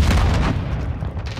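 Dense, rumbling gunfire and explosive booms from a Call of Duty Modern Warfare multiplayer match on PS5, a continuous loud barrage of shots and blasts with no talk over it.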